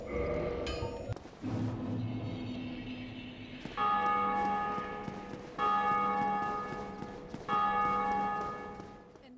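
A large bell tolls in the Dark Souls video game, struck about four times in a slow, steady rhythm, loud and resonant, each ring lingering in a long sustained hum.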